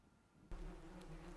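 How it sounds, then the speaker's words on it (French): Thousands of bees hum in a dense, continuous outdoor drone near Zhenbei Mountain in northeast China, the buzzing growing fuller after a quiet start. "son est aussi doux que du miel pour Yan Lu, le son de milliers d'abeilles bourdonnant près de la montagne Zhenbei dans le nord-est de la Chine"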